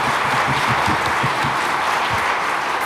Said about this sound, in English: Please give them a round of applause, if you would.